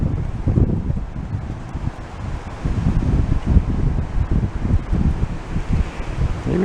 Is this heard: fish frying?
no